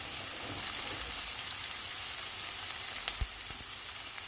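Onions hit hot oil in a pan for a beef dish and sizzle with a steady, loud hiss close by, with a couple of faint knocks near the end and no speech.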